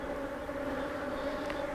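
Honey bees in an open hive make a close, steady droning hum with no pauses and no talk.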